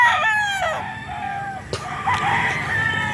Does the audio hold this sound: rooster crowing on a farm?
yes